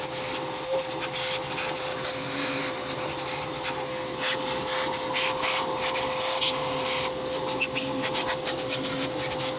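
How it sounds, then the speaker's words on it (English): A shop vacuum sucks dirt and debris out of a Ford engine valley near the injector ports, making a constant whine with scraping and rattling clicks as bits are pulled up the hose. "Now I'm gonna vacuum up any dirt and debris in the valley so nothing gets into the injector ports."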